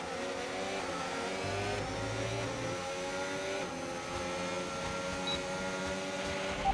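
Formula 1 racing car accelerating in F1 25, engine tone climbing through gears in a steady whine, heard from onboard at moderate volume with no voices.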